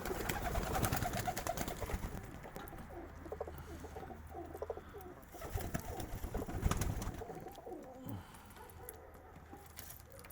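Low, soft cooing of Vienna flying pigeons repeating on and off, close by, with faint rustling and light tapping around them.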